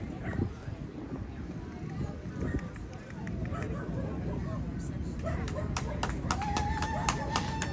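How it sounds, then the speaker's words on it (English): Hands clap repeatedly for a Chihuahua at an outdoor dog show in Valley Center, California. The quick, close claps grow denser toward the end over a steady crowd murmur with voices. "So I set the phone down on my lap to clap."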